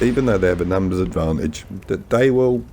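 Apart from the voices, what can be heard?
No everyday noises stand out.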